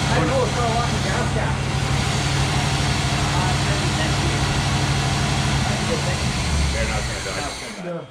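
A 1973 Chevy Chevelle SS 454 barn find with a Muncie 4-speed runs steadily close by, a continuous dense rumble with hiss that fades slightly at the end.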